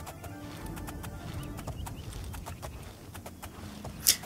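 Hooves clip-clop in a steady rhythm as a slow horse is ridden in the modded Oblivion video game, with soft ambient game sound and a sharp bright blip near the end.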